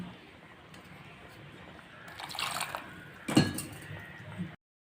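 Rinse water from a vessel is poured into a simmering oily brinjal curry with coconut. A brief close splashy pour is followed by a sharp clink of the container before sudden silence.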